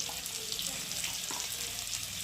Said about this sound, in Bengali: আলুগুলোকে একটু ঢাকা দিয়ে দিয়ে ভেজে নেব